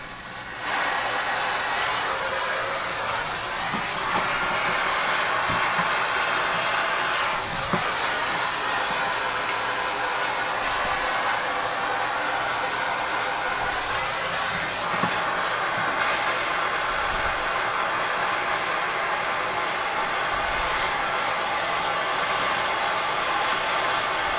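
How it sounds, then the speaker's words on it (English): A blowtorch flame heats a plumbing valve fitting for soldering while a shower enclosure is being fitted. It gives a loud, steady roaring hiss that runs almost unbroken throughout, with a few faint knocks. "You notice that I am holding the fire on the fitting itself, the valve."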